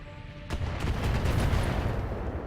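Missile strikes in the mech combat game Battletech: a sharp impact at the start sets off a dense, rumbling barrage of explosions that stays loud and continuous with no talk.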